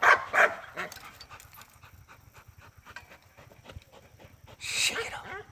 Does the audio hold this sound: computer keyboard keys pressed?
no